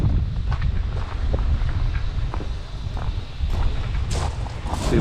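Steady wind buffets the microphone on a breezy seashore where someone is fishing from the shore, a continuous low rumble with faint gusting swells and no voices.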